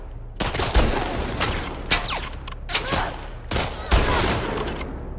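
Heavy gunfire aimed at Ellie in The Last of Us Part II, a rapid barrage of close, loud shots and bursts that keeps going for several seconds with almost no pause between them.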